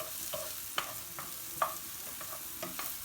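Onions frying in a pan, a steady close sizzle broken by a few sharp scrapes and clicks of stirring, with no voices.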